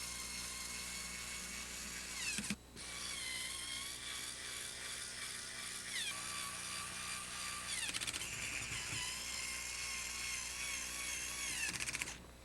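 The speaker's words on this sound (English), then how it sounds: "When you're screwing the panel in place, always make sure that you start from the middle and work to the outside." Power driver screwing a door kick plate panel into place, a steady whining motor drone running almost continuously with a few brief pauses and pitch shifts, close and fairly loud, no talking.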